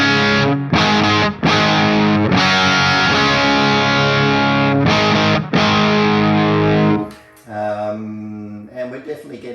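Loud, heavily distorted electric guitar chords from a humbucker pickup through a Bogner Ecstasy Classic amp, ringing out close up, with brief cutoffs between strums and a thinner riff near the end.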